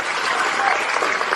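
A religious talk audience breaks into loud applause for a child, a dense, close wash of clapping from many hands, steady and strong for the whole moment.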